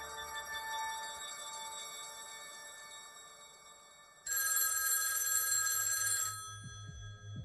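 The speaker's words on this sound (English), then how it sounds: "When the phone rang and Nora realized it was from the space agen" A telephone bell rings in one loud, bright, continuous burst of about two seconds, then stops, followed by a soft low electronic tone under a quiet musical background.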